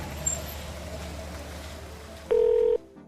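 A phone beeps with a short, steady electronic dialing tone that cuts in loudly over a low background hum, then stops abruptly.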